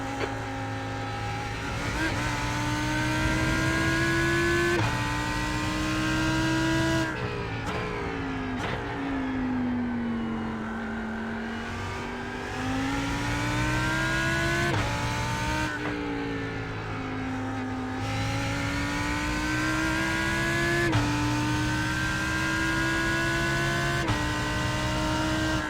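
A Lamborghini Huracan GT3 engine in the iRacing sim, a loud continuous race-car howl that climbs and dips through repeated gear changes and revs, with no talk over it.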